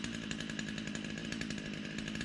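A small chainsaw runs steadily while cutting into a big tree during land clearing, a loud, close, continuous buzzing engine whine with no pauses and nobody talking.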